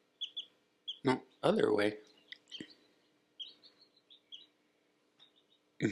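Baby chicks huddled under a brooder give soft, high chirps and peeps scattered across the moment, while a person speaks briefly over them.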